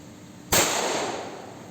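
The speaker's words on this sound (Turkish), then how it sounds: "45 kalibre bir silah iki parmakla tutacağım şu anda arkadaşlar" A single sharp gunshot from a .45 caliber pistol held loosely between two fingers, one loud close crack with a short decaying tail.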